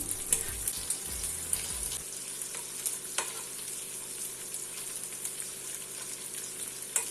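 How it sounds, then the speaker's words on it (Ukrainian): Pork belly pieces sizzle and crackle steadily in a hot pan, a close, continuous fry with scattered sharp pops and a brief low scrape near the start. "при обсмажуванні жир буде топитися і шматочки будуть зменшуватися"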